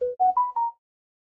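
A phone ringtone plays as a short rising melody of four clear tones, loud and close, with no talk over it and silence after.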